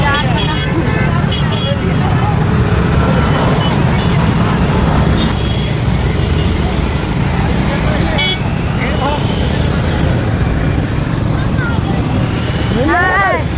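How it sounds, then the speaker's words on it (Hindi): Dense evening traffic jam on an overbridge in Uslapur, Bilaspur: a constant loud wash of idling and creeping engines with scattered horn toots, some brief rising whines, and voices chattering close by throughout. "शाम के समय एकदम चक्का जाम भारी भीड़ में के उसकापुर के ओवर ब्रिज में"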